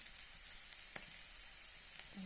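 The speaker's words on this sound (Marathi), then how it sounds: "त्यानंतर कढीपत्ता टाकूया" Curry leaves hit hot oil in a pan while cooking a quick recipe from leftover chapati, giving a soft, steady sizzle with a few brief crackling pops, close and fairly quiet, with no talking.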